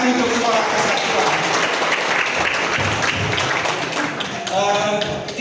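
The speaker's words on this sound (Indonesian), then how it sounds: "Tepuk tangan untuk Sekolah Kesatuan." Crowd applause for Sekolah Kesatuan at a book launch and discussion on the school's history, dense loud clapping filling the room with people talking underneath.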